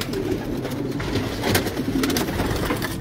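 Pigeons coo steadily in a racing pigeon loft, a dense and fairly loud chorus of overlapping calls with no voices.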